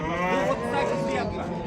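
A cow at a busy livestock bazaar in Andijan gives a brief, close, low moo with a drawn-out tonal call, under faint background chatter.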